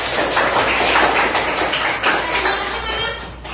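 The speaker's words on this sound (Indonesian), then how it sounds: "Tepuk tangan dulu buat semuanya." A room full of people claps together, a dense steady patter of applause that fades slightly toward the end.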